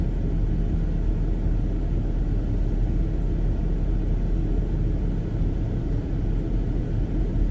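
Parked semi trucks idling nonstop at a truck stop, a steady low diesel rumble, unbroken and fairly close, with no voices over it.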